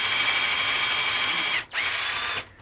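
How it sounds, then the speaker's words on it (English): A power drill drives lag screws into a butcher block countertop on a kitchen island, a steady high whine that runs for over a second, dips briefly, then resumes before cutting off, close and loud with no talk. "I'll clamp it in place and then secure it with some lag screws."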